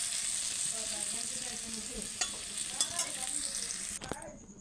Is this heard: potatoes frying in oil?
yes